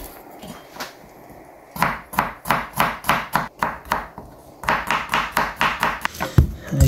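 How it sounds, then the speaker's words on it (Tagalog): Knife chopping onions for beef steak Tagalog toppings on a cutting board, a quick steady run of sharp close taps in two bursts after a quiet start, no talk. "Ito yung hinahapkok natin sibuyas."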